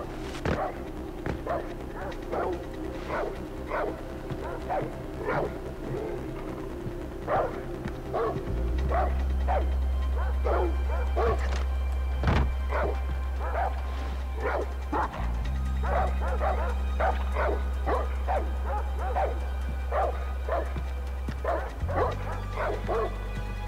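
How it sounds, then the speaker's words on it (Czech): Dog barking in the video game Far Cry 4, a long run of repeated sharp barks and yips at a quick uneven rhythm, moderately near, over a low steady game rumble that grows heavier midway. "No, každopádně určitě tady ještě je asi nějaký pes."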